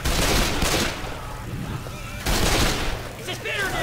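Rapid bursts of gunfire ring out in a co-op zombie shooter game featuring characters like Coach and Ellis, loud and near, with players talking over the shots.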